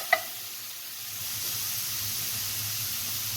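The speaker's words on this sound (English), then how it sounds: "the onions are sauteed" Onions sauté in oil in a pan for a Sicilian spaghetti pie, with a steady soft sizzle under a low hum after one brief click at the start.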